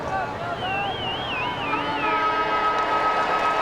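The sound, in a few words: end of quarter siren at Australian football match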